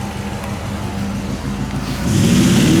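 Rat rod car pulling away in a garage setting, engine rumbling close by and swelling louder as it takes off at the end.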